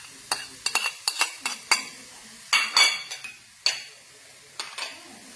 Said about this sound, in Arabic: وغادي نزيد دابا عاوتاني هاد البدنجاله.